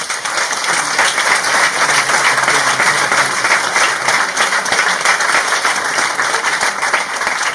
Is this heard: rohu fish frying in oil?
no